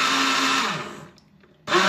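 Blender whirring loudly while making an apple, celery, cucumber and spinach shake, running steadily, cutting out for about half a second, then starting again at full strength, with no voices.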